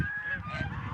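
A short goose honk, nasal and clear, rings out once or twice nearby on an off-grid homestead in Russia, over faint background noise.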